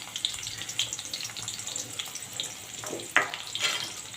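Cumin seeds and chopped onion frying in hot oil with a dried red chilli for a mashed potato dish, a steady close sizzle with crackling pops and occasional stirring scrapes.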